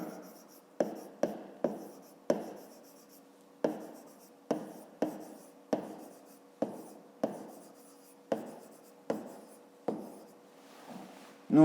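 Handwriting with a pen on paper while working a fifth-grade math exercise, a quiet series of short scratchy strokes in an irregular rhythm, no talking.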